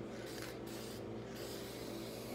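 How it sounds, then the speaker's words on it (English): Rust converter sprayed from an aerosol can onto the bare metal of a 1971 Plymouth Cuda being restored for new quarter panels, a steady close hiss that runs throughout with no talk. "You spray it on, the stuff turns black, lets you know where there's any rust"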